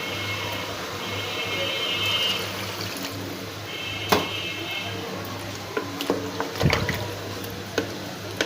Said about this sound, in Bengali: এখন আমি সবজিগুলোকে সিদ্ধ হওয়ার জন্য একটু পানি দিয়ে দিব।